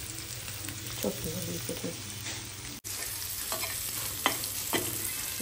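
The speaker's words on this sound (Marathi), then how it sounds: "तर चला मी आता हे सर्व होते फ्राय करून घेते मग भेटते तुम्हाला." Surmai fish sizzles and fries steadily in a pan at close range, with a few stirring scrapes, a short break in the middle and a faint voice briefly audible.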